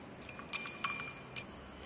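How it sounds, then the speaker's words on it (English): Faint clinks of a rod or spoon against glassware as ferric ammonium citrate is stirred into solution, a few light taps spaced irregularly over a quiet background. "again stir it properly to form the clear solution"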